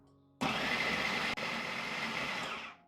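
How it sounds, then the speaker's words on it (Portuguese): Food processor coarsely chopping chicken breast, a steady whirring motor roar starting suddenly, with a brief dip midway before running on and fading out. "Eu vou processar grosseiramente no processador."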